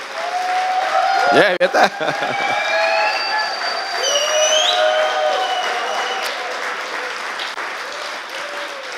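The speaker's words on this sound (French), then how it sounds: "une bonne main d'applaudissements" A congregation at a church session applauds loudly and continuously, with a voice briefly speaking over the clapping and some whistles rising above the crowd.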